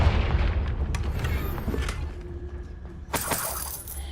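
A Confringo spell blasting a table apart in Hogwarts Legacy: a loud booming explosion with shattering debris, followed by a second sharp crash and crackle.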